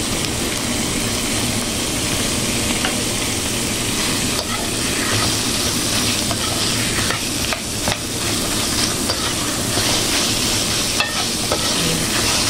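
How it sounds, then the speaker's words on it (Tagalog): Meat sautéing in a pan until golden for ginisang monggo, a Filipino mung bean stew with eggplant: a steady, close sizzle with continuous stirring scrapes throughout, no voices. "Igisa muna natin to guys hanggang sa mag-golden brown din yung kulay ng ating karne"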